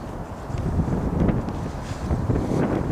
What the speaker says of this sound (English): I might be able to hear the wind getting up again.